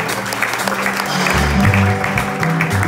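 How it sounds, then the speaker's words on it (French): Applause and cheering from a church congregation during a service, a steady dense wash of clapping with voices mixed in, swelling slightly midway, with low sustained music tones underneath. "Acclamez très fort les amis."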